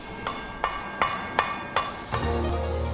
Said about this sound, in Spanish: el tocho se soldará aún más fácilmente al martillearlo